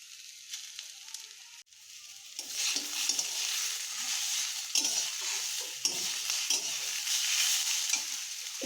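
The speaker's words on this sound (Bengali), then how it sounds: "এবার আমরা এখানে বেটে রাখা মশলাটা দিয়ে দেবো।" Close, steady frying of ground spice paste with fried onions in a pan, a continuous sizzle broken by repeated spatula scrapes and stirring knocks. A sharp click comes early.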